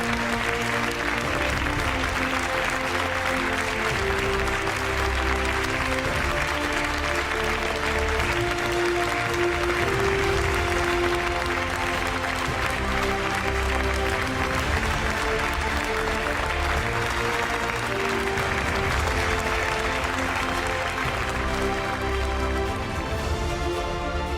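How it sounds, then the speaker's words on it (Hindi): Sustained audience applause and clapping at a talent show's final round in Pali, greeting the junior category winner, loud and steady throughout with a crowd murmur beneath. "बहुत जोरदार तालियां पल के लिए"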